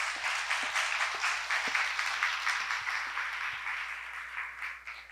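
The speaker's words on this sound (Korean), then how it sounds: "박민혜 사무총장님을 큰 박수로 모셔보겠습니다" Applause from an audience welcoming the WWF-Korea secretary general onto a stage at a talk event, a fairly soft, even spread of many hands clapping continuously, with faint low knocks underneath.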